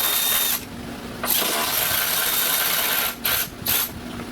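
On a 2011-2017 Honda Odyssey, a power tool whirs in loud bursts to back out the radiator and condenser bolts, close up, with short pauses between runs.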